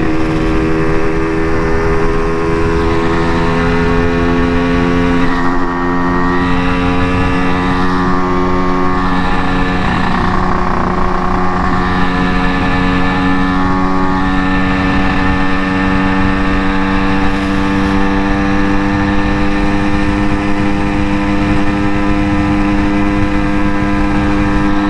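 A motorcycle engine drones steadily in fifth gear on a highway near Nandi Hills, a continuous close hum with strong wind rush and a slight waver in the tone, with no talking.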